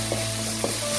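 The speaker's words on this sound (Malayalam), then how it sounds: "ഇത് നന്നായി മൊരിയണം, അതുവരെ ഇളക്കിക്കൊണ്ടിരിക്കാം." Onions frying for Kerala-style beef cutlet crackle with a steady close sizzle in a pan, broken by two soft scraping stirs of a spoon.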